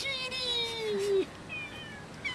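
A cat meows in a long, drawn-out wail with a second, shorter cry following, moderately close and fairly quiet, with a hint of a person's voice in the background.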